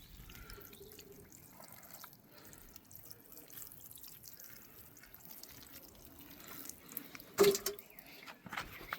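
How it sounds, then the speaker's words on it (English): Water trickles and drips steadily onto a freshly replanted Panadol plant, soft and close, with a louder splash near the end. "So I'll water the plant thoroughly"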